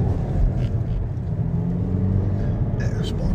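An Alfa Romeo Giulietta 1.4 T-Jet pulls away in sport mode, its engine droning and building under an Italian-speaking voice, with a brief brighter rise near the end.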